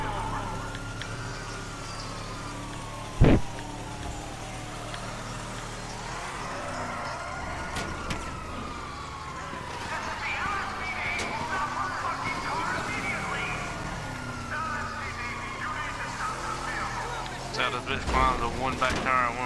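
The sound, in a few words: pickup truck driving on rims in video game GTA V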